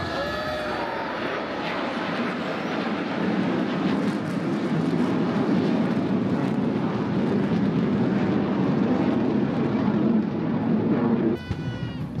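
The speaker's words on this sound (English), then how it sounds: "That's such an impressive helicopter, the Chinook." A Chinook helicopter roars steadily overhead in Singapore, a loud, broad rumble with a thumping rotor undertone that holds for the whole stretch.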